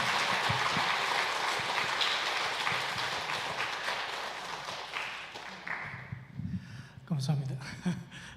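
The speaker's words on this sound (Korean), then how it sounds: "큰 박수로 모시겠습니다." An audience in a church hall claps to welcome a speaker for a Sunday afternoon health lecture, a broad, even patter that slowly tapers off, followed by a few scattered sounds and a voice at the end.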